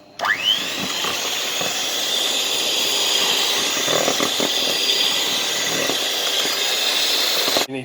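An electric hand mixer whirs loudly and steadily as it beats eggs into lemon drizzle cake batter, spinning up at the start and cutting off at the end, with no one speaking.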